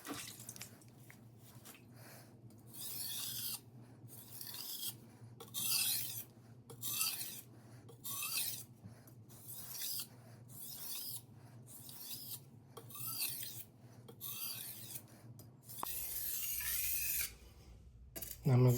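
A knife edge drawn in repeated strokes across a whetstone, making rhythmic wet rasping scrapes with brief pauses between passes; close and fairly quiet, with no talk over it.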